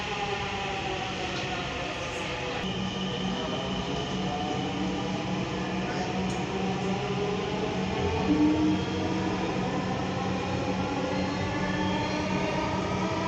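A Dhaka Metro Rail train at a station gives a steady, moderately loud mechanical hum and rumble with sustained whining tones, continuous throughout with no voices.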